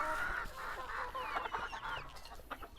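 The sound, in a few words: hens clucking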